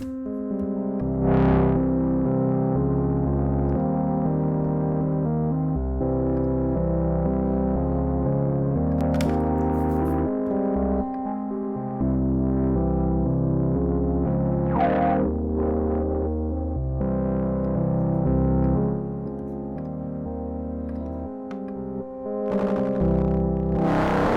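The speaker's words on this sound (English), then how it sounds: "Oh, I love distortion." A synthesizer with a distortion effect plays sustained buzzing chords, loud and gritty, changing every few seconds with occasional bright swells and no voices.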